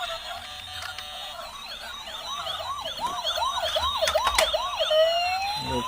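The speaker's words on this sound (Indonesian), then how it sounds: "ambulannya masih berbunyi teman-teman. Mobil ambulan, mobil sirine teman-teman." A toy ambulance sounds its siren up close, a fairly faint electronic wail sweeping up and down in quick repeating cycles over a few seconds, with light handling clatter and no talk.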